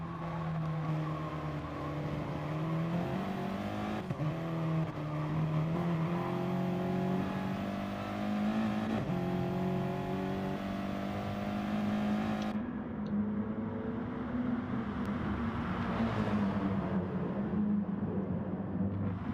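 Race cars with GR4-class engines in a sim racing game, revving and whining at high pitch, steady and loud throughout with shifting engine tones and occasional gear changes.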